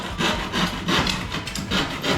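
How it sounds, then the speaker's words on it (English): Wood being cut with a hand saw while converting a Toyota RAV4 Cruiser car for travel, rhythmic rasping strokes repeating steadily and loudly up close, with no talk. "This is some serious work, cutting this wood."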